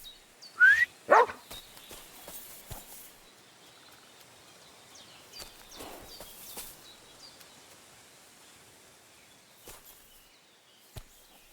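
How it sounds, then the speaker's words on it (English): A dog in the medieval video game Kingdom Come: Deliverance 2 lets out two loud close barks near the start, followed by softer scattered yips and bird chirps in a quiet outdoor scene. "Aye, aye, you silly doggy."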